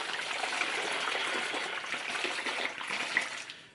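A bottle of liquid makeup primer being shaken, giving a steady, continuous sloshing rattle of liquid close by with no voices.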